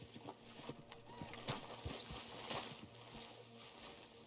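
Horse hooves clip-clop on the ground in the open-world game Red Dead Redemption 2, soft and fairly close, an uneven walking rhythm with faint insect-like ambience around it.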